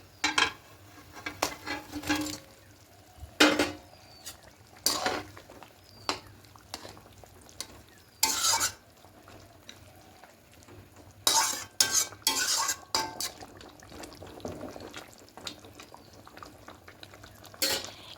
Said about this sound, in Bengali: এবার এই সময় ভেজে রাখা মাছগুলো দিয়ে দেবো